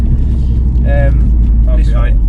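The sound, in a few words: VW Golf R MK7 with DSG driving on country roads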